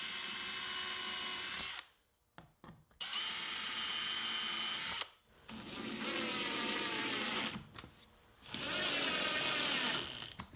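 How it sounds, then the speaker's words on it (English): Power drill boring hinge holes through a self-centering Vix bit in a shop cabinet, sounding as three or four short whirring bursts separated by brief pauses, close and fairly quiet. "Then I'll hold the hinge at the line and use a self-centering drill bit, this is also called a Vicks bit,"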